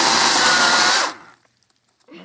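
A Kobalt 14-inch battery chainsaw felling a dead tree for firewood whines loudly and steadily for about a second, then winds down, leaving a few light knocks and a brief return of sound.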